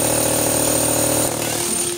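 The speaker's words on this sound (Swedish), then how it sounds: "Det är som att borra i smör." Power drill boring steadily, loud and continuous with a hammering buzz that eases slightly near the end.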